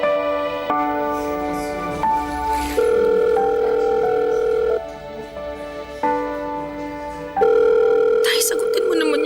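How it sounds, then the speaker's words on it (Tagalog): A telephone rings repeatedly on a call that goes unanswered, loud and close, with tonal rings in a regular on-off rhythm; other tones sit underneath, and a voice may be present. "Sagutin mo naman yung tawag ko."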